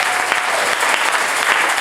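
A church congregation applauds during a French-language sermon, giving a loud, dense, continuous burst of many hands clapping that holds steady throughout.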